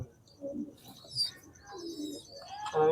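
Long-flying pigeons coo softly nearby, a few low, rolling calls with brief chirps and gaps between them, over quiet background noise.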